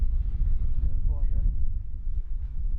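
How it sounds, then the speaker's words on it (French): Wind buffets the microphone at the top of a dam, a continuous low, gusty rumble that rises and falls, with a faint voice briefly audible in the middle. "Il y a un peu de vent."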